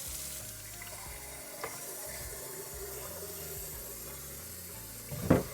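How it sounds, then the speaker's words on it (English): A blender jar is rinsed out with tap water in a home kitchen after making chili sauce for pozole, giving a steady running-water hiss at moderate level, with a sharper splash or clunk near the end. "I'm going to just quickly rinse this out with some water"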